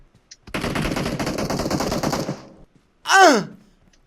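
Rapid automatic gunfire in PUBG Mobile crackles in a dense, loud burst for about two seconds, then stops; a short rising-and-falling vocal sound follows after a brief gap.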